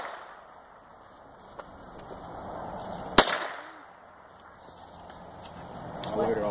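A single sharp crack from a .22 caliber gun fired outdoors, loud and sudden against a steady background hiss.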